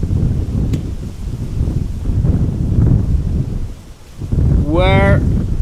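Gusting wind buffets a microphone outdoors at Amsterdam Schiphol Airport, a loud low rumble that swells and dips, with a brief lull near the end and a short high chirp shortly after; a voice talks over it.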